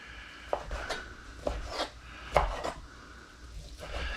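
A knife cubing chicken on a cutting board, with about five distinct, soft chopping thuds spaced irregularly and close up, plus light rubbing between cuts.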